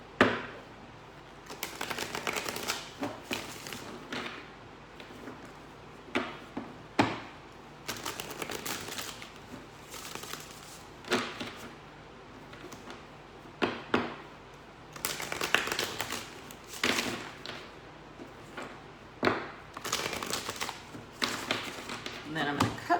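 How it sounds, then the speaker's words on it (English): Cards are shuffled in repeated riffling bursts, crisp flutters and taps coming in irregular clusters with a faint voice now and then. "I'm going to shuffle the deck"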